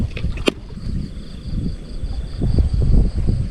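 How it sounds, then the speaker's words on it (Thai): Strong wind buffets the microphone at a natural fishing spot, with low rumbling gusts that swell toward the end and a steady faint tone above them, heard close with no talk. "ลมแรงๆแบบนี้น้ำลึกๆแนะนำเลยเลยนะ"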